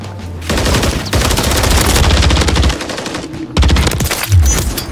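Rapid automatic gunfire in a first-person shooter ranked match, loud, dense bursts of shots running nearly the whole time with a short pause in the middle, then more bursts.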